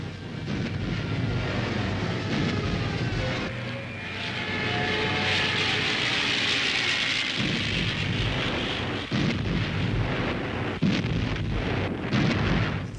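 A World War II bombing raid on the Soviet front: droning aircraft engines mixed with deep, thunder-like explosion rumbles, loud and continuous throughout with no speech.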